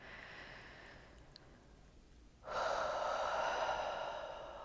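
Slow, audible breathing during a gentle yoga session: a soft, airy inhale, a short pause, then a longer, louder breath that holds steady, close to the microphone with no talking.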